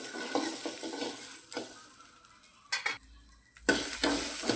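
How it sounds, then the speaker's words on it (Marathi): Tur (pigeon pea) seeds roasting and being stirred in a pan, with soft scraping and rattling strokes, a few sharper clatters near the end, close and moderately quiet, with no talking. "आता हे दाणे पण असे भाजून घेऊ।"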